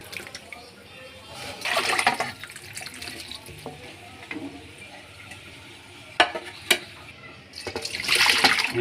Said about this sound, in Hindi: ये मैंने 2-3 पानी से इसको अच्छे तरीके से वॉश कर लिया।